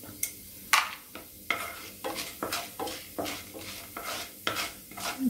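Cumin and a small piece of asafoetida roasting in a pan, with a faint sizzle under repeated scraping strokes of a spatula, roughly two per second, fairly quiet and close.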